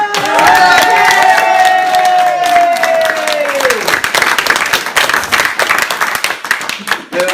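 A comedy one-man show audience bursts into loud, dense applause and cheering from the start, a sustained tone running under it for several seconds before the clapping thins into scattered claps.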